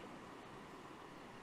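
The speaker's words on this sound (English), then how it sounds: "Every time the waves crash against the rock, I'm firing away images" Ocean waves surge and crash against rocks on the Llyn Peninsula coast, a steady, faint wash of surf with no distinct breaks, heard from a distance alone.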